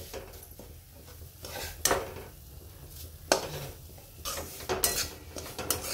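Semolina for jaggery sheera is dry-roasted in a pan, with a soft background sizzle broken by repeated loud scrapes and clanks of a spoon against the metal pan.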